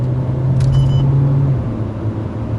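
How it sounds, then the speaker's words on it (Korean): A Hyundai Sonata engine in sport mode drones loudly with a steady, rumbling tone as revs hold high, easing slightly toward the end; no voices. "RPM만 올라갑니다. 소리만 커지고요."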